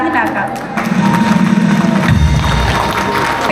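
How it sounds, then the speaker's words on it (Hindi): Audience cheering and applause at a school stage show welcoming a young kindergarten girl performing as Rani Laxmi Bai, a loud crowd roar rising after a brief pause and holding steady, with children's shouts mixed in. "जोरदार तालियों से स्वागत कीजिए हमारी नन्ही वीरांगना का।"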